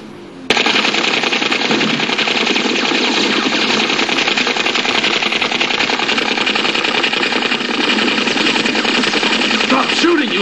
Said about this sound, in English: Stop shooting, you lunatic!